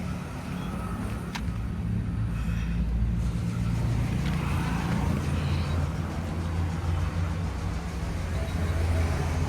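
A 2018 Ashok Leyland Dost LS light truck drives away with a steady low engine rumble, close and continuous, with some road noise.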